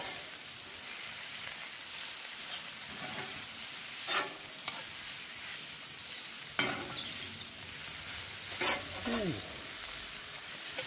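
Steak and onions sizzle steadily in a hot pan for a Philly cheesesteak, with repeated scraping stirs and brief clatters of a utensil over the constant frying hiss, heard up close.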